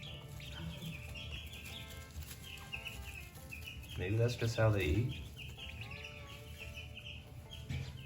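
Chickens cluck and murmur nearby with soft chirps, while a person talks briefly over them.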